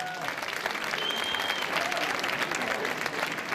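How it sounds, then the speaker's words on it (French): An audience at an awards ceremony applauds warmly, a continuous, dense patter of many hands clapping at moderate volume, with a faint whistle cutting through briefly. "applaudissements, s'il vous plaît encore."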